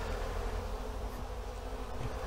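A dense, continuous hum of thousands of honey bees buzzing close by, a steady swarm drone with no talking.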